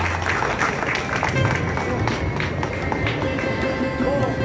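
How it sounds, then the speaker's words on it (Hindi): A crowd claps and cheers to welcome a police officer at the opening of a police post at Paithan Gate in Aurangabad. The dense, busy applause runs throughout, with voices mixed in. "जोरदार तालियों से इस्तकबाल कीजिए।"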